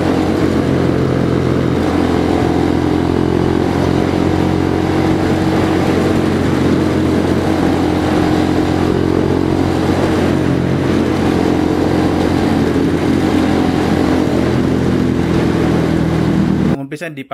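Bajaj Dominar 400 motorcycle accelerating on a road with a strange rattling noise, a loud, steady engine drone heard close up that runs continuously before cutting off abruptly at the end.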